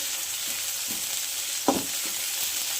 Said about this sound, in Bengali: লাল লাল করে ভেজে নিতে হবে পেঁয়াজ রসুন একসাথে